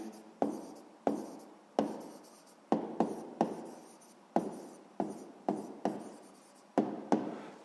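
Writing down an answer during a sixth-grade math lesson, probably pen or chalk on a surface: a series of short, close scratchy strokes at an uneven rhythm, each starting sharply and fading quickly, with no talk.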